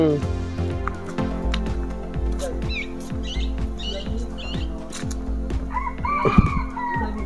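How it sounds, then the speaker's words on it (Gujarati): A rooster crows among other fowl squawking and clucking in a park setting, with people talking over the birds. "કુકડું બોલ્યું."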